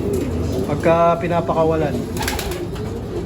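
Pigeons coo in a colony breeding loft, a few rolling, repeated coos rising close by over steady background noise, with someone speaking briefly alongside.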